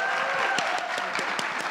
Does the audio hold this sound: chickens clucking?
no